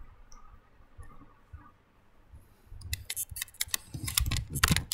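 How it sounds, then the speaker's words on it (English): Sharp computer mouse clicks during software installation come in quick irregular bursts after a quiet stretch, close and crisp, several clustered near the end with no voices. "Now we right click on this one and extract."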